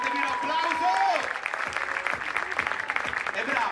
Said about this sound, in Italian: Vi fate un applauso a Martina Ragusa, fatevi un applauso!